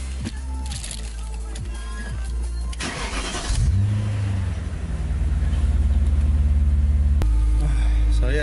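A 2002 BMW M5 engine cranks and fires up, then settles into a loud, deep idle with a rev that holds steadily, heard up close after some rustling handling noises.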